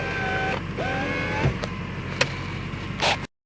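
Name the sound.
car electric window opening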